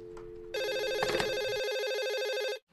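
A telephone rings with a steady electronic trill, fairly close and clear, starting after a brief pause and cutting off abruptly near the end with no talking over it.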